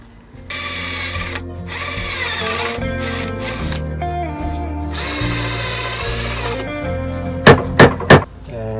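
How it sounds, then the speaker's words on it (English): A power drill boring a pin hole into wood during hand-tool woodworking on a contemporary sun lounger, a loud whining run that rises and falls in pitch, ending in three short bursts. "now it's time to drill the hole for the pin as straight as possible"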